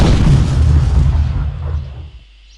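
A single loud, deep explosion from an enemy in an Unreal Development Kit platform game, booming at once and then rumbling away over about two seconds into silence.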